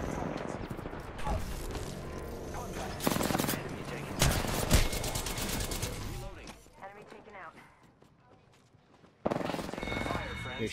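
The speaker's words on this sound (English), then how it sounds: "Opening fire on the enemy." Automatic weapon fire in the battle royale game Apex Legends, several loud bursts of shots separated by quieter stretches, with players talking over the combat.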